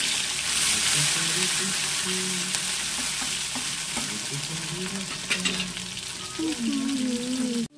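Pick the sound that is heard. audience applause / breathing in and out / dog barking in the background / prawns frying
prawns frying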